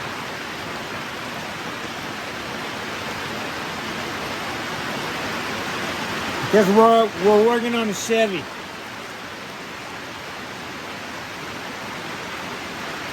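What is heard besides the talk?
rain falling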